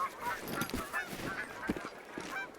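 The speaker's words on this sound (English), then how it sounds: "these goose flyovers are just, they're relentless" A flock of geese honks overhead in a flyover in the hunting video game Hunter: Call of the Wild, repeated overlapping honks at moderate distance over a soft outdoor ambience.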